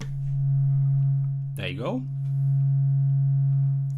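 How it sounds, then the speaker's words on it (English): A steady, pure sine tone from a modular synthesizer oscillator hums continuously and evenly, with a short spoken phrase briefly over it midway. "So what I like to do is I like to start with a sine wave immediately."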